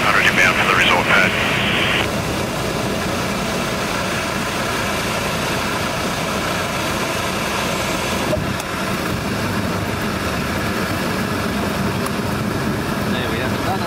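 Steady, loud drone of a Cessna light aircraft's engine and propeller while descending from 3,500 feet toward a resort landing pad, with a brief brighter rush near the start and unbroken cockpit noise throughout.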